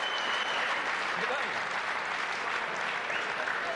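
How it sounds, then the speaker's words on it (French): Spectators at the 1995 Trophée Canal+ pétanque final, Foyot against Weibel, clap without a break in a sustained, even wash of applause that neither swells nor fades across the few seconds. "Ah, la foule est ravie."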